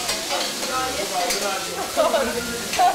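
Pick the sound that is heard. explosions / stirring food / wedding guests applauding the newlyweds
stirring food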